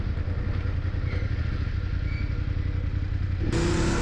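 BMW motorcycles, including an R18 and an R9T, pull away from a meetup point with a steady, loud engine drone and rumble, close up, shifting in tone near the end.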